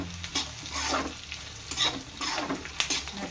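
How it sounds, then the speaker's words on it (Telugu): Carrots frying with curry leaves in a pan, a steady sizzle broken by repeated stirring scrapes throughout, close and fairly quiet, with no talking. "క్యారెట్ అవి వేగుతున్నాయి కదా, కరివేపాకు ఒక 2 రబ్బులు వేసుకోండి."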